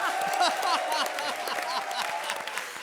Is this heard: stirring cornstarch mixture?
no